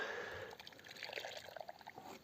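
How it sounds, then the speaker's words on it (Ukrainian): Freshly boiled tea, smoky from a campfire on a Carpathian bike trip, pours briefly into a mug as a close, steady liquid stream with small splashes. "Чайок уже закипів. Я собі кружечку наберу."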